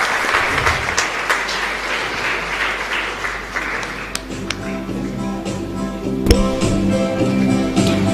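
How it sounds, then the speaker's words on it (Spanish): Applause for the parish community at a live Mass at San José Obrero parish in Asunción: a sustained round of clapping from a congregation, steady and fairly loud throughout, with a sustained tone entering partway through. "Fuerte aplauso para nuestra comunidad"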